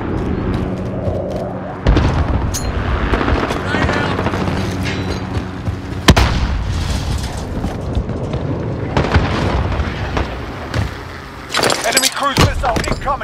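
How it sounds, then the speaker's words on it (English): Precision airstrike explosions in Call of Duty Modern Warfare land as a run of heavy booms and sharp blasts, loud and close, mixed with bursts of gunfire and radio voices. "Be advised, friendly precision airstrike inbound."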